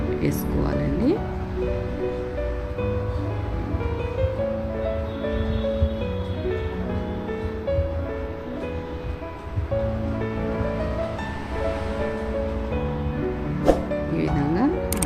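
Chicken pakoda pieces sizzle in hot oil with a continuous hissing crackle, while a person talks over the frying throughout.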